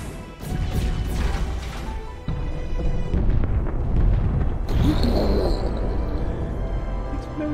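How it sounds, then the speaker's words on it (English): A video game explosion goes off as a loud smash and crash with a heavy burst, then continued rumbling debris, with no speech over it. "Explosions!"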